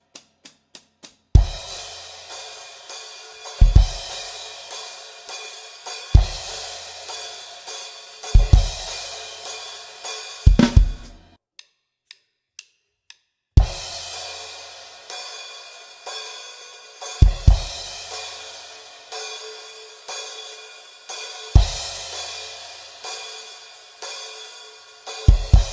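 Drum kit playing the eight-bar intro of a song: hi-hat count-in, then loud crash cymbal accents with kick on the downbeats over a steady driving beat, a brief break of sparse clicks midway, then the groove resumes; no voices.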